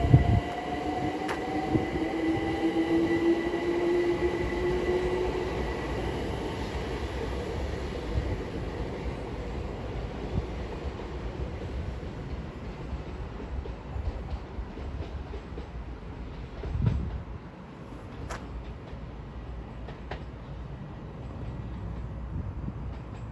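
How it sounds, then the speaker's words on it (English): A London Overground class 378 electric train departs New Cross station, giving a steady, moderately distant rumble with a rising motor whine early on and no talk. "here we have 378 226 now departing with the 1743. London Overground says to Dalston Junction"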